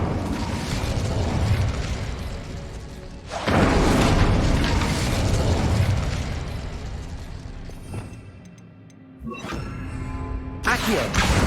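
Repeated booming bursts of an Incendio fire spell cast in Hogwarts Legacy, loud whooshing blasts rising and falling across the clip, with brief quieter gaps between the bursts.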